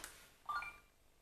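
A Hövding 1.0 airbag cycling collar beeps as it switches on, a single short electronic tone heard faintly and close in a quiet room after a light click from plugging in the zip.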